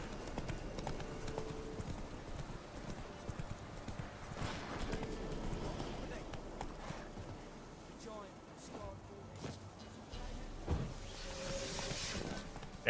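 Horse galloping in the video game The Witcher 3: Wild Hunt, with rhythmic hoof clip-clops in the game audio, fairly quiet and mixed with other game sounds, while a person talks over it.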